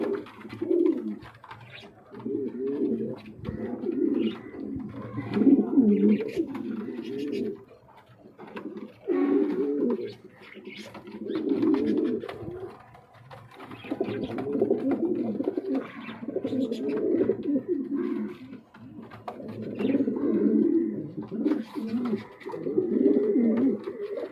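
A pair of king pigeons, a breeding pair, coo repeatedly in low, throaty rolling phrases close by. A faint voice is heard now and then in the background.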